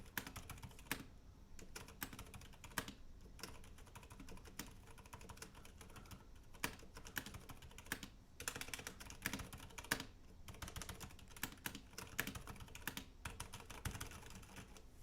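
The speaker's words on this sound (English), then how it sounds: "But really, all I want to do is just keep typing on it." Continuous typing on an MK Fission mechanical keyboard, a quick irregular stream of close, crisp key clacks with brief pauses, quiet overall and without speech.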